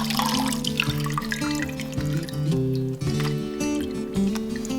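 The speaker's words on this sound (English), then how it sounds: "I'm going to give it a quick shake." Water sloshes and splashes in a jar of lemon peels as it is shaken, a steady close liquid churning under a dense layer of background music.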